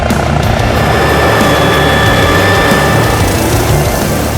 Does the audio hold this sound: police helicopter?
yes